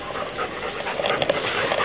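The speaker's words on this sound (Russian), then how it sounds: "на помощь пришел кинолог со служебной собакой" A police service dog brought in by a dog handler pants steadily and rapidly nearby, a continuous breathy rasp with no talk over it.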